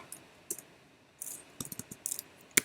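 Scattered computer keyboard keystrokes click close and crisp, a few isolated taps followed by a quicker cluster of typing, with no voice over them.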